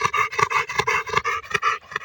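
A dog adopted from a shelter a month earlier pants steadily in quick, rhythmic breaths, close and fairly loud, with no talk over it, during a walk in the mountains near Antalya.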